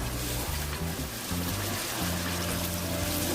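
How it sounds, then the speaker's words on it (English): Water poured into a cooking pot while preparing Indomie instant noodles, a steady close splashing trickle lasting the whole stretch over a low background hum. "I'm adding a little bit of water."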